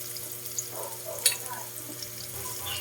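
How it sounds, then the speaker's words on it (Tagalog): Chicken pieces sizzle in a hot pan with onions, ginger and garlic for adobo, a steady soft frying hiss close by with a few faint clinks. "Lagay lang natin yung chicken"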